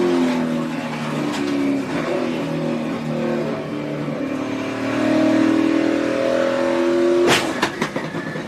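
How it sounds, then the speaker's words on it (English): A NASCAR race car at the 2014 Sprint Unlimited pulls away from a crash, its motor droning then surging as it accelerates, with a sharp burst of noise near the end and other engines around it. "listen to the motor. Listen to the motor accelerate."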